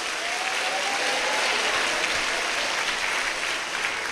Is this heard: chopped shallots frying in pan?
no